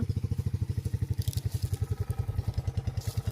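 A failing engine on a truck loaded with sugarcane sputters in a fast, even, chugging rhythm of low thumps, loud and close, with faint scraping and clatter over it.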